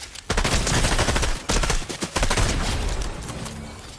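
Rapid bursts of gunfire in a video game, loud and close, with sustained automatic volleys broken by brief pauses around the middle and tapering toward the end.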